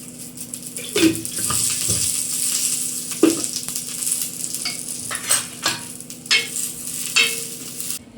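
Green chillies frying in a little oil for a methi vegetable dish, a steady close sizzle broken by sharp stirring clatters and scraping bursts, with no talking.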